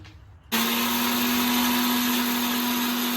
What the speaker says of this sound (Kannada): ಈಗ ಮಿಕ್ಸಿಗೆ ಹಾಕಿದ್ದೀನಿ ಪೌಡ್ರ್ ಆಗಿದೆ